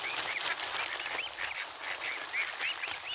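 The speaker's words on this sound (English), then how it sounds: "We're just feeding the ducks" A flock of ducks being fed calls out in rapid, overlapping quacks and honks, nearby and fairly loud, a busy chattering chorus over a steady outdoor hiss.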